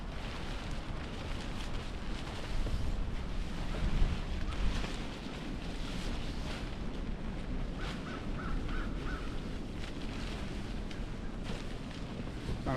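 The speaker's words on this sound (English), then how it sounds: "hurry up before the wind blows my tent more" Winter wind buffets a small, cheap tent set up for below-freezing urban camping, a steady loud rushing roar with gusty surges and no speech.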